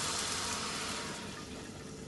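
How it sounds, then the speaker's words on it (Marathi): Hot water poured into a spiced misal curry of sprouted moth beans with Kashmiri red chilli powder and misal masala, a steady broadband rushing pour that starts loud and slowly fades over about two seconds, with no talking. "ह्याच्यामध्ये गरम पाणी घातलेलं आहे"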